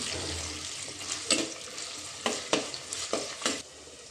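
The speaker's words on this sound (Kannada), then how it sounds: "ಇದಕ್ಕೆ ಈರುಳ್ಳಿ ಹಾಕ್ತಿದ್ದೇನೆ ಚೆನ್ನಾಗಿ ಫ್ರೈ ಮಾಡಲಿ" Onions fry in a clay pot for a Kollatharu fish curry, a soft steady sizzle broken by several sharp scraping stirs of a spoon, close and fairly quiet, with no talking.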